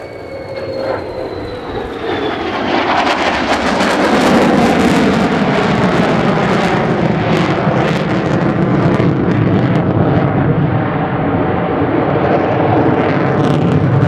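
A Royal Air Force F-35B Lightning jet performs a flying display at RIAT, its engine rising from a distant whine to a loud, sustained roaring rumble that rolls and crackles steadily for over ten seconds.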